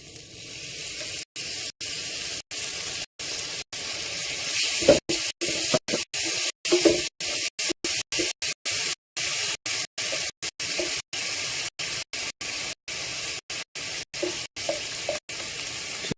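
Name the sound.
tomato and basil sizzling as they are added and stirred in the curry pan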